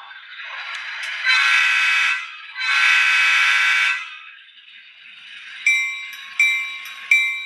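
A steam locomotive's sound from a Baldwin DCC sound decoder rises with long, loud, tonal whistle blasts, then falls into a steady hiss. Sharp rhythmic puffs follow as it starts to move, with no talking.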